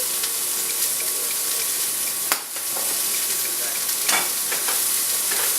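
A frying veggie dish with black pepper and fresh red pepper is stirred in the pan, a loud continuous sizzle broken by a few sharp utensil knocks and scraping strokes, near and without speech.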